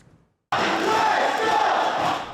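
A packed crowd at a Taiwan baseball stadium roars after a brief near-silence, a loud, sustained wall of cheering and shouting that holds steady to the end.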